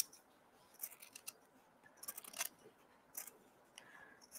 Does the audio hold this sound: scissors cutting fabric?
yes